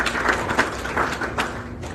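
An audience at a church seminar in St. Peter Roman Catholic Church claps steadily, a dense, moderately close patter of many hands with no speech over it.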